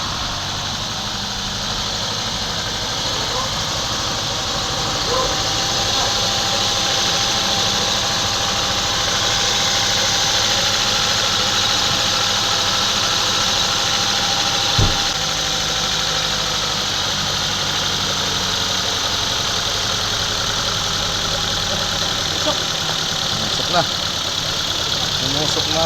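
A Mazda CX-7 engine idles steadily after a top overhaul, a continuous mid-pitched hum with a faint tick, close and constant throughout with one brief knock partway in.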